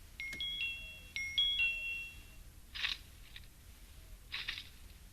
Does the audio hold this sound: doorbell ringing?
yes